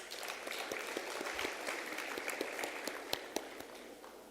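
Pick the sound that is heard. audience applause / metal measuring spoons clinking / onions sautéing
audience applause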